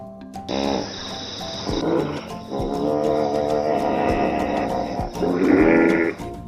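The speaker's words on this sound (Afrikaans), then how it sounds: "Dit is 'n seekoei." A hippopotamus gives deep, rumbling grunts and a drawn-out bellowing call, loud and close, with a soft tonal backing underneath.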